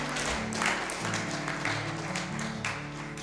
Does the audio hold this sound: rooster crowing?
no